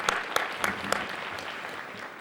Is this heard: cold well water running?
no